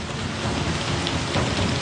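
Monsoon rain pours steadily over Phoenix, a dense broadband hiss of rainfall with low rumbling thunder underneath, continuous and loud throughout.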